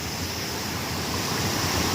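A steady, dense roar of rushing water fills the whole clip, constant and unbroken like a nearby waterfall.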